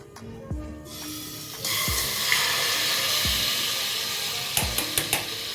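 Large chicken tandoori pieces drop into a hot pressure cooker and burst into loud sizzling, with several sharp clanks of metal and a steady hiss that swells and holds.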